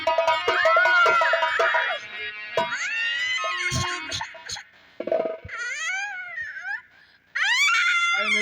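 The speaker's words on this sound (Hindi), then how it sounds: "ये रोने की आवाज कहाँ से आ रही है?" Wailing, sobbing cries from a Hindi nautanki folk theatre performance rise and fall in long, loud, tremulous phrases with short breaks, close and dominant throughout.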